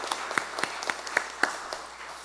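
A church congregation at a Korean worship service claps in a steady rhythm, each clap sharp and evenly spaced, fairly soft and without voices.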